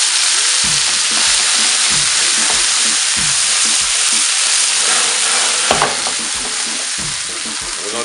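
Red and green peppers with white onion sautéing in a hot pan, a steady loud sizzle with rhythmic scraping stirs every second or so, no voices.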